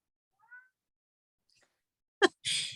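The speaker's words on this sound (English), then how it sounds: "My cat doesn't like to be without me, I guess." A house cat meows indoors at night, a faint short mew first, then two louder, close meows near the end, with no talking.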